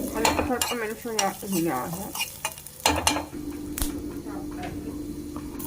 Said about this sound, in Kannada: ಇದನ್ನ ಎಣ್ಣೆಲಿ ಚೆನ್ನಾಗಿ ಫ್ರೈ ಮಾಡಿ ನೋಡಿ ಈ ಥರ ಫ್ರೈ ಆಗಬೇಕಿದ್ದು